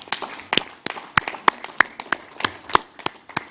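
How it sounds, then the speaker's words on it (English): Applause from an audience at the Africa Adaptation Summit, sparse individual claps spread across the room rather than a dense ovation, fairly faint and with a few sharper hand claps standing out. "Alok, you deserve a round of applause because it was in Glasgow"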